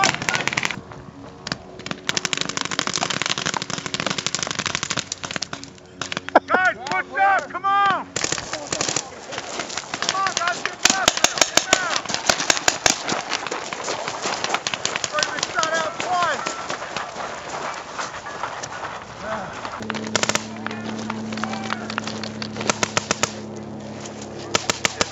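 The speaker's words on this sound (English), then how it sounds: "We have an airstrike to the middle." An airsoft scenario game carries a simulated airstrike, with rapid bursts of gunfire and sharp bangs crackling through the scene; players shout and talk over much of it, and the noise fades toward the end.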